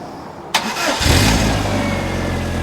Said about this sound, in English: it's one of the sweetest K series I've ever heard